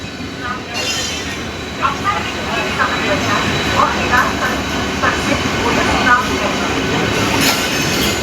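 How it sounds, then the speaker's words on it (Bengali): A passenger train pulling out of Howrah station, its steady rumble and rail noise filling the space with faint clatter throughout; people talk quietly in the background. "এই যে আমাদের ট্রেন এখন হাওড়া দিয়ে বেরোচ্ছে"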